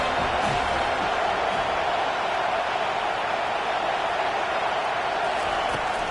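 Dense stadium crowd roar at an FSU versus Texas college football game, a continuous loud wash of noise from thousands of fans with no break.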